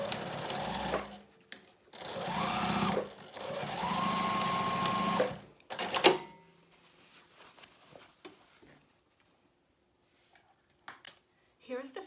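A sewing machine stitches a fabric basket panel in several close bursts of rapid mechanical whirring, with short pauses between runs, followed by quieter handling sounds.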